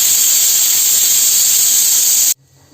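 A pressure cooker whistle cooking rajma lets out a loud, continuous, high-pitched steam hiss that then cuts off abruptly, leaving near silence.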